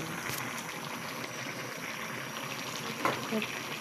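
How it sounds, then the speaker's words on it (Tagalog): Vegetables simmering in a pot give a steady, fairly loud bubbling hiss that runs the whole time, with a few faint clinks near the end. "Konting kulo na lang siya guys, maluluto na"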